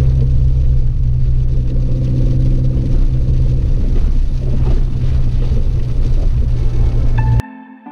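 Steady, loud engine rumble from inside a Mini Cooper S driving through snow with stability control switched off, a continuous low drone that cuts out abruptly near the end.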